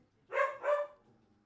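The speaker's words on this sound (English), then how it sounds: "We bring the dogs to the office." A dog in an office lets out two quick, close barks in a row, loud and sharp, followed by quiet.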